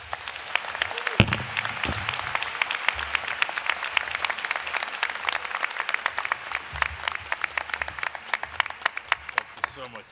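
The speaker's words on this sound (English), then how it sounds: "Another big round of applause to our keynote speaker." Large crowd at a 2018 business school commencement ceremony applauds the keynote speaker, with dense, sustained clapping running the full length at steady loudness and a single louder clap or knock early on.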